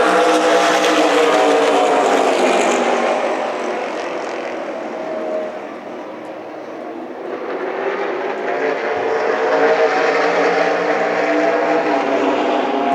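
Race cars in a SPEARS Tour Series 100-lap race at Kern County Raceway roar past loudly, a sustained engine drone that dips briefly midway and then swells back as the pack comes around again.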